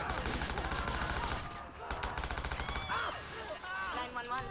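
Gunfire from a handgun in the Watch Dogs video game, loud dense bursts of shots over a busy street scene with other game noise, with a voice talking over part of it.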